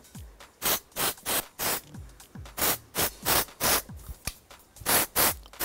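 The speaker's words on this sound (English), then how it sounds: "using the texture spray will give it even more" Repeated short bursts of texture spray hiss onto hair, about a dozen even puffs in a steady rhythm, close and fairly loud.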